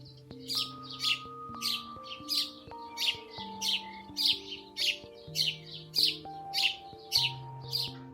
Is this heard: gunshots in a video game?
no